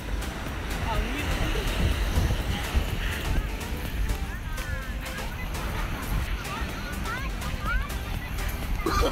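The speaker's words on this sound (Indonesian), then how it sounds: "Anginnya gede banget." Strong wind buffets the microphone on a beach, making a loud, constant low rumble with gusty swells for the whole stretch, while faint chirps flicker above it.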